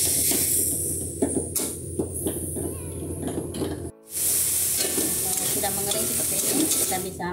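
Minced meat with mushroom broth for a Mie Gacoan-style noodle topping sizzles and hisses in a hot pan while being stirred, a steady, close frying sound with scraping strokes and one brief pause midway.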